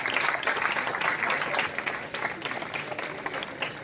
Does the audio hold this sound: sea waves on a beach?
no